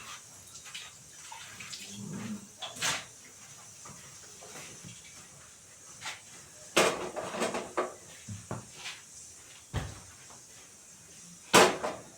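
Metal cookware being shifted on a home kitchen stove, a pressure cooker set aside and a kadhai put down for tempering vegetables, giving a few sharp clanks and knocks spread over a quiet room with faint hiss, no talking.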